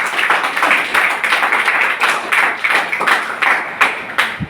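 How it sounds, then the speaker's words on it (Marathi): Applause from an audience at a product presentation, a run of brisk overlapping hand claps at steady strength, close and loud with no talk over it. "त्यांच्यासाठी एकदा जोरदार टाळ्या वाज"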